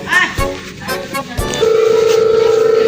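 A mobile phone call is placed: after a few short voice fragments and taps, a steady tonal ringback beeps in an even pulsing rhythm, loud and close, for the last second and a half.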